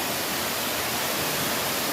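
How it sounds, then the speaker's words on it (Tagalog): Waterfall on the Ng Tung Chai hiking trail in Hong Kong, a constant, dense hiss of falling water, even and unbroken for two seconds with no voices. "Yan guys, waterfalls."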